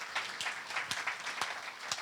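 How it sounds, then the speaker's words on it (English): Applause for trainers at a board meeting, with scattered individual claps forming a faint, fairly distant round of clapping from a room of attendees. "let's give them a round of applause"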